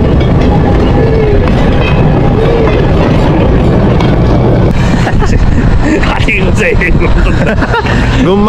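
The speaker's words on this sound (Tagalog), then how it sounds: "Hindi pala siya tinatawag na train daw, trolley." Trolley rolling past on street rails in Astoria, Oregon, its low rumble steady throughout, with people talking over it and the sound growing busier toward the end.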